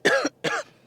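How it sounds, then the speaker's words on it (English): Two short, close coughs in quick succession, separated by a brief pause, from a person who is still getting over an illness. "Sorry, y'all, I still have that cough."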